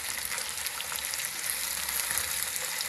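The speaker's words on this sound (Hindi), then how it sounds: "अब टमाटरों को प्याज के साथ अच्छी तरह से पकाई करेंगे" Chopped tomatoes and onions fry in a pan for a potato karahi, giving a steady, even sizzle with no talking.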